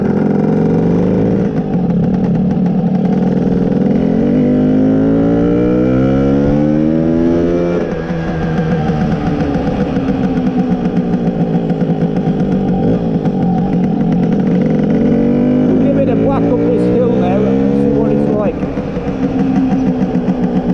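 A Lambretta BGM V4 Sport Clubman scooter engine drones loud and continuous while riding, rising and falling with throttle as gears change, and a rider talks over it throughout.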